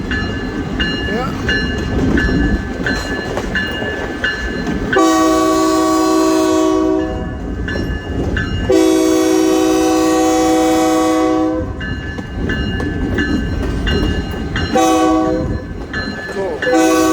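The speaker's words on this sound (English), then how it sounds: "This is about almost as far as I'm going to be able to pace this train here." An Iowa Interstate GP38-2 freight locomotive, number 711, near Chillicothe, Illinois, sounds its horn in three loud sustained blasts over the steady rumble and rail noise of the passing train.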